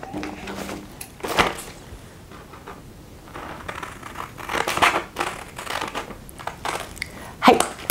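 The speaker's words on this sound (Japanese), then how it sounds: "この中心点からこの折り目の半分、ここまでをハサミで切ってください。" Scissors snip through a folded sheet of paper for a paper-craft instant book, giving scattered crisp cuts and rustles against a quiet room, with a sharper snip near the end.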